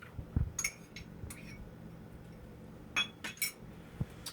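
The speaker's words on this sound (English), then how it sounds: "I kind of have like a rubber spatula that I'm using to kind of help me get all of that stuff mixed in" A spatula clinks against a bowl while black beans and garbanzo beans are mixed for veggie burgers. Several light, close clinks come in sparse clusters over a quiet background.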